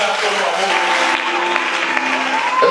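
Church congregation applauding at a dedication closing ceremony, sustained loud clapping close by with voices and tonal sounds mixed in, steady throughout the short stretch.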